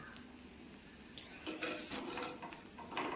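Onion thoran (savala thoran) being stirred in a pan: faint metallic scraping and clinks of a spoon against the pan over a soft background sizzle, no talking.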